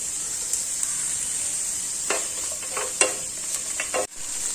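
Steady hiss of cashews frying in a pan with a few clinks and scrapes of stirring, close and fairly loud, no voices.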